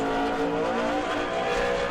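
A number 29 super late model race car runs a qualifying lap at New Smyrna, its engine droning loud and steady at high revs with a sustained tonal whine, heard alone without talk.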